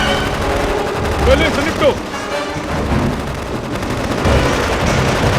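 Gunfire from an action movie battle against alien invaders, sustained bursts of shots and booms running loud throughout, with urgent shouted dialogue over the top.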